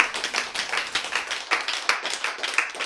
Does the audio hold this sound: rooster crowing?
no